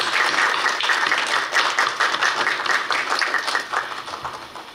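Applause at a university graduate school entrance and dean inauguration ceremony, a full round of many people clapping that starts strong and gradually thins and fades toward the end.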